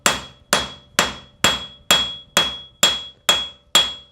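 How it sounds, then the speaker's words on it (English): The flat face of a hammer strikes metal while working the base of a metal clip: nine loud, close, ringing blows in a steady, even rhythm, with no talk. "So I come here with the flat of my hammer."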